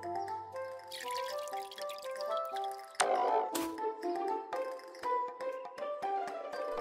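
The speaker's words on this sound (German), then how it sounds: "Er gießt das Spielzeuggemüsebeet." Water pours and trickles from a watering can onto a toy vegetable bed in a cartoon, with drips, over light background music.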